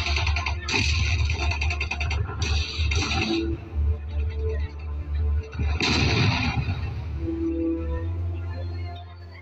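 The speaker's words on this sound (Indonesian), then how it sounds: "Akhirnya terjadi ketegangan yang menyulut baku tembak di tempat ini secara mengejutkan." Gunfire sound effects from a school heroes' day drama about an independence battle boom and crack in loud, reverberant bursts over a low rumbling bed, several shots spaced across the stretch with brief quieter gaps between them.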